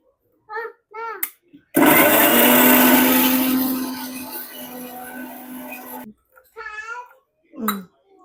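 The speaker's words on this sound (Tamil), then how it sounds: "இப்போ இதை அரைச்சி எடுத்துக்கலாம்." A kitchen blender grinds soaked ingredients with hot water into baby food, one loud continuous whir of about four seconds that slowly fades, with a voice and brief speech before and after.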